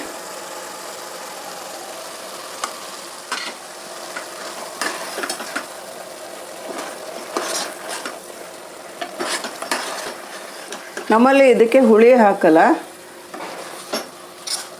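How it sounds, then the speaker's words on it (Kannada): Ground avarekalu (field bean) masala mixture is stirred and fried in a pan: scraping spoon strokes over a light sizzle, with a voice talking throughout and a loud warbling tone rising briefly near the end. "ಇವಾಗ ರುಬ್ಕೊಂಡಿರೋ ಮಿಶ್ರಣನ ಮಿಕ್ಸ್ ಮಾಡಿ ಸ್ವಲ್ಪ ಹುರಿತೀನಿ"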